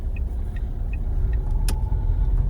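A car idles and rumbles steadily nearby as it pulls out in a village, a constant low engine drone with a brief sharp click partway through.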